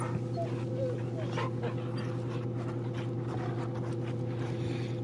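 A dog in the video game Final Fantasy XVI pants and whimpers softly over a constant humming game soundtrack drone, its small whines rising and falling through the background.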